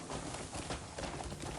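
Hooves of a horse in the video game Crimson Desert clatter in a quick, continuous rhythm, faint and steady across the short stretch.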